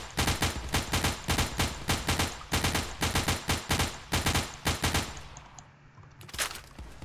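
Rapid bursts of gunfire from the video game Crossroads Warfare crack out in a loud, regular rhythm of about a dozen shots. A brief pause follows, then one last shot.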